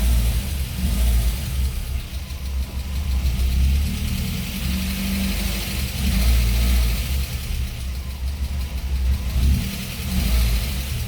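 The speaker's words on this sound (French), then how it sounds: "on entend que le moteur tourne bien quand même. Il est assez régulier" A cold Audi 80 B2 engine runs steadily at a fairly even idle right after a spark plug change, its low mechanical drone continuous and close for the whole stretch with slight swells in revs and no voices.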